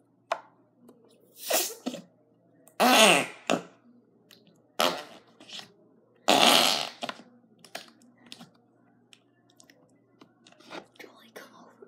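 Homemade slime being rolled up and squeezed by hand at close range, giving bursts of wet squishing and crackling squelches separated by short pauses, with soft breathy voices and small handling noises between.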